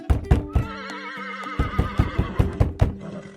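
A farm horse gives a long, wavering whinny, loud and close, while sharp hoof clip-clops tap out a steady rhythm alongside and after it.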